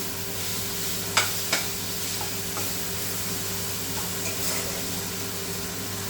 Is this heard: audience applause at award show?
no